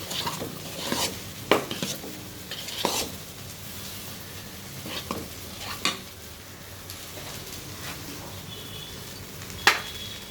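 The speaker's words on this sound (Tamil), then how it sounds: "நல்லா க கரண்டியில் கரை கிளறி விடணும்" A ladle scrapes and clanks against a pot while food sizzles softly inside, a few sharp metallic knocks standing out over a quiet frying hiss.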